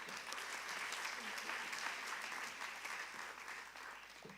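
Steady applause from an audience at a gala evening, a dense even wash of clapping that holds for several seconds at moderate level, slightly distant.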